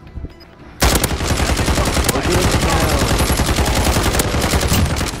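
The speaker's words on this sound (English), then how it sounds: "I just kept shooting through the wall again" A gun in a video game fires a sustained, rapid, loud stream of shots through a wall, beginning abruptly and continuing without pause for several seconds.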